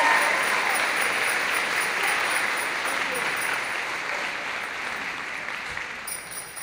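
A high school holiday choral concert audience applauds the chamber singers, a steady broadband wash of clapping that fades slightly toward the end, with no talk over it.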